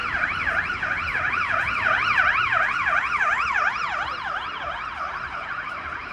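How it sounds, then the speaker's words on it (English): A wailing ambulance siren rises and falls steadily in repeated sweeps, loud and continuous, with faint road noise beneath and no voices, in Malmö. "Wow, the ambulance."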